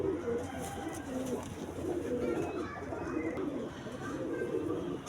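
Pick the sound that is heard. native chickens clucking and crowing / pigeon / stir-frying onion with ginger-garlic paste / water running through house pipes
pigeon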